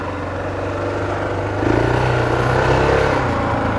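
A Honda XR600R motorcycle engine runs loud and close, a steady thumping idle that swells slightly in revs partway through, heard alone without talk.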